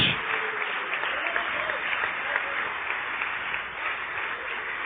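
A congregation claps for Jesus during a Portuguese-language church service, producing a continuous, even wash of many hands clapping at moderate loudness with no break.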